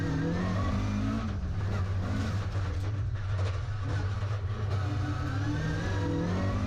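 A rally car runs flat out at Cadwell Park, its engine a continuous strained drone heard from a distance, with shifting pitch as it works through the turns and no voices.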